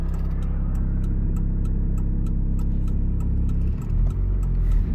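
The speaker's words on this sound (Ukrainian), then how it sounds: "Автівки просто не закінчуються їхати." Steady road traffic with cars passing continuously during a driving test on a Ukrainian street, a constant mid-pitched engine and tyre rumble heard from inside a car, with no talk.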